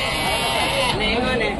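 Goats and sheep bleat at a busy animal market, close by and mixed with a steady crowd murmur and people bargaining throughout.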